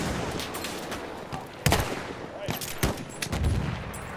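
Machine gun fire crackles in a video game, with several sharp bursts over a busy, noisy battlefield background.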